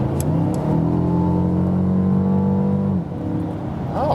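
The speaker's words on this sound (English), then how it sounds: "Let's do a lane change and accelerate once more again to see." A 2020 Mercedes CLA 250 Coupé accelerates hard from inside the cabin, its engine note climbing steadily and loudly before a brief dip around a shift or lift-off, then pulling again.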